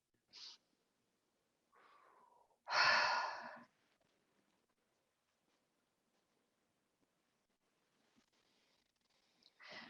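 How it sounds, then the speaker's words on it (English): During a guided breathing exercise, a person takes a single deep breath in, a short loud inhale amid near silence, with a few faint softer breaths around it. "Breathe in and hold."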